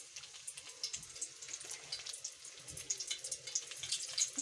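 Cauliflower pieces go one by one into hot ghee in a kadai, setting off a close, steady hiss and fine crackling sizzle that builds slightly, with no talking.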